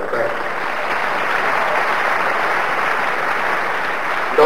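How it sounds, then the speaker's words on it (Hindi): Audience applause at a university convocation ceremony, a dense, even burst of clapping that holds steady and close for several seconds. "यदि उनकी खुशी में हमारी तालियां भी सम्मिलित हो जाती हैं"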